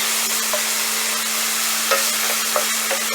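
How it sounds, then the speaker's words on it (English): Garlic and shallots sweating in a pan over medium heat make a constant, close, even sizzle with a few faint clicks and no talking. "Don't want to burn my garlic and my shallots. We just want it to sweat"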